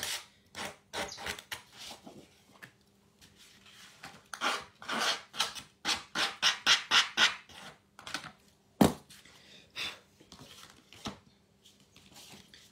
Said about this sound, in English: So just distressing the edges up on that one.